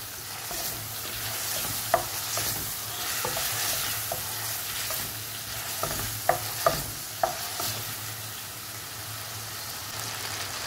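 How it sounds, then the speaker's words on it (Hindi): Tomatoes and onions cooking in a pan for dhaba-style urad dal, with a continuous sizzle under repeated sharp scrapes and taps of a spoon stirring, several distinct clinks spread across the clip, close and fairly loud, no voices. "टमाटरों को भी 2 से 3 मिनट के लिए पकाएंगे इसके अंदर ताकि ये भी सॉफ्ट हो जाए।"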